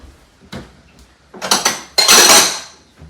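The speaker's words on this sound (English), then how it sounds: "In a small bowl, stir the granulated sugar and the remaining 1 tablespoon of cinnamon" A spoon scraping and clinking against a small bowl while granulated sugar and cinnamon are stirred, several close, bright metallic scrapes and knocks with short gaps between them, no voices.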